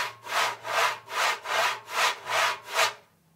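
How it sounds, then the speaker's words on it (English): Scratch tone on a dumbek drum, fingers scratching across the drum skin in six even, rhythmic rasping strokes, close and clear, then stopping. "it literally is just scratching the skin of the drum"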